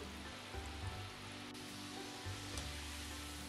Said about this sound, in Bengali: এভাবে কিন্তু একটু নাড়িয়ে নাড়িয়ে ঘুরিয়ে ঘুরিয়ে ভাজতে হবে।